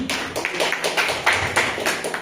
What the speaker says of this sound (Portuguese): As palmas a Jesus